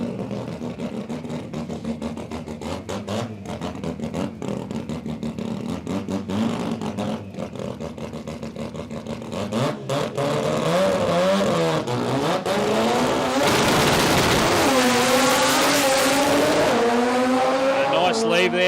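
A turbocharged two-rotor 13B rotary race car launches down a drag strip, its engine climbing from a buzzing idle into a loud, rising scream that holds to the end, with an announcer talking over it.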